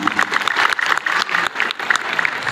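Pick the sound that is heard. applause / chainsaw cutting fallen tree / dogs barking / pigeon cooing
applause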